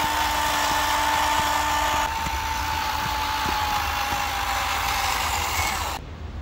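A small RC Unimog crawler truck crawls along in first gear with a continuous electric motor whine and gear hum. Faint ticks and bumps come from the trail, and the sound drops off at the very end.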